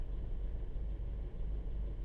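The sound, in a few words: VW Golf GTI Mk5 2.0 TFSI engine idling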